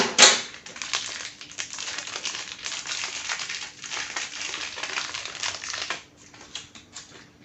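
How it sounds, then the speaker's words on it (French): A small green sachet is cut open with scissors up close, a run of crisp crinkling snips and rustling plastic that tapers off near the end. "Je regarde pas, je coupe le sachet."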